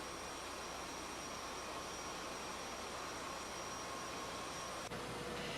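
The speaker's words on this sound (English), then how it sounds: "The blast of hot air for our blast furnace is generated by the engines and turbo blower" A steady, loud mechanical roar of the steam engines and turbo blower making a blast furnace's hot-air blast in a steelworks powerhouse, continuous and droning with a faint high whine running through it.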